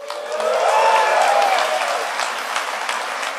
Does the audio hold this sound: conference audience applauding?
yes